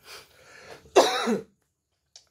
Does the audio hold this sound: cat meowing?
no